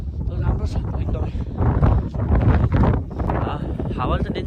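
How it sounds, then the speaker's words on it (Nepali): Strong wind blows hard across the microphone outdoors at a plane crash memorial site in Japan, a constant loud rumbling buffet mixed with people talking. "हावाले चाहिँ डेन्जरै हानेछ"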